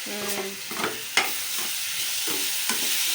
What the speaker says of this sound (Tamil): ஒரு 4 தக்காளி இதில் போட்டு நல்லா வதங்கட்டும்.